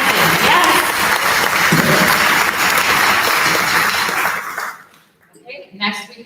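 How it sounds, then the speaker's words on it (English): A round of applause for a graduate named Madison at a school ceremony, loud clapping from a crowd that stops abruptly near the end, followed by a voice beginning to speak. "So let's give a round of applause for Madison."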